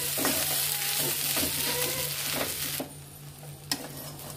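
Crumbled idli upma is stirred in a frying pan, with a spatula scraping and tapping the pan over a loud, steady sizzle that drops away near the end, leaving a soft hiss and a single clink.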